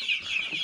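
Kampung chickens cluck in a short, close burst of several quick, sharp calls, with no voices.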